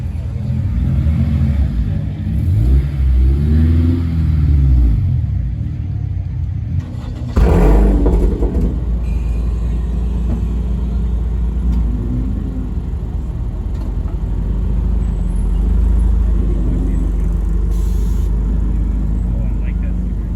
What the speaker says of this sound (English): And then you got the Global Time Attack S2000 leaving.